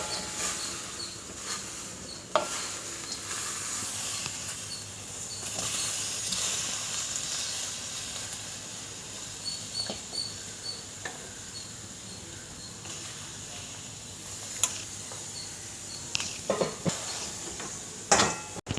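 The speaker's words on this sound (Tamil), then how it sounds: "இப்போ கடாயில் வாட்டர் கொஞ்சம் ஆட் பண்ணி தக்காளி, வெங்காயம், பச்சை மிளகாய், இஞ்சி பூண்டு வேக வச்சு எடுத்துக்கோங்க" Tomatoes, onions, green chillies, ginger and garlic simmer in water in a kadai, giving a steady soft hiss and bubbling with occasional light clinks of a spoon.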